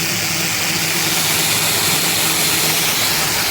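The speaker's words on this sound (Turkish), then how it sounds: "Şimdi matkabı da çalıştırıyorum arkadaşlar." An electric drill powered through an inverter runs in a loud, steady whine-like roar that stays constant for the whole stretch with no speech.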